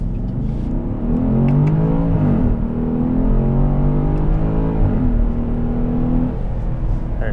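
A 2013 Porsche Cayenne GTS accelerating hard from a standstill to 60 mph, the engine note climbing loudly through the gears with audible shift dips, heard close and continuous with no talk.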